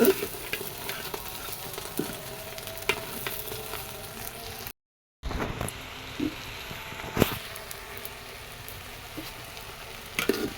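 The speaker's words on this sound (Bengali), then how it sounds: "এবার চালের সাথে খুব ভালো মতো কষায় নিতে হবে" Rice with turmeric and spices is stir-fried in a pan for khichuri, a continuous scraping and rustling of grains under a steady sizzle, with a brief dropout partway through.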